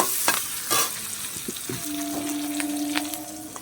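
Capsicum pieces stir-fried with shrimp in hot oil for a bean and shrimp curry, giving a steady close sizzle with repeated scraping strokes of a spatula against the pan, without any talk.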